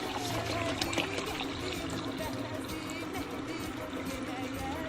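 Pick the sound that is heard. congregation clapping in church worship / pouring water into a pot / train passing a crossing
pouring water into a pot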